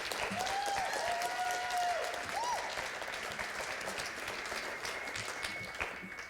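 Steady crowd applause at a poetry slam, a dense continuous clatter of clapping hands at moderate distance, with brief whoops rising through it early on.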